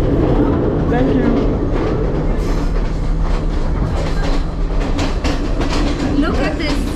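A train rumbles past with rhythmic clickety-clack of wheels on rails, loud and close, with voices mixed into the continuous roar.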